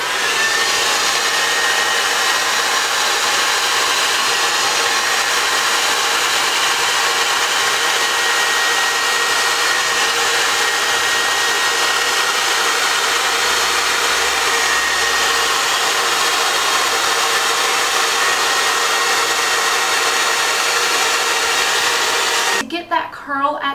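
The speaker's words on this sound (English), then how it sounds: "we're going to try it with the hair dryer on, and I'm going to be on hot and high" A hair dryer blows steadily at high power for the whole stretch, a loud continuous whoosh that cuts off abruptly at the very end.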